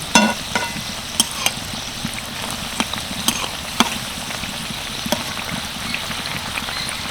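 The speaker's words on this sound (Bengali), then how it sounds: "আরও এক পিট ভালোভাবে ভেজে নিয়েছি" Dough twist rolls fry steadily in hot oil. A dense, even sizzle, like light rain, runs throughout with irregular crisp pops and crackles, close up and with no speech.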